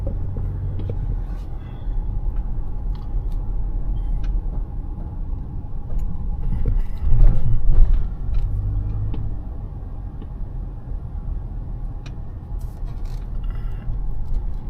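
A car being driven one-handed on a road near a new airport construction site, giving a steady low engine and road rumble throughout with occasional faint ticks and scrapes inside the cabin.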